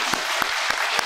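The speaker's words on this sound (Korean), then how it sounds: "박수하겠습니다." A short burst of church congregation applause during a Sunday service, with four soft rhythmic clapping pulses rising above a steady wash of hands.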